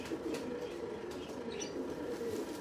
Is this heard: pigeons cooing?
yes